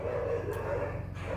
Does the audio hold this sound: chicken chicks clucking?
no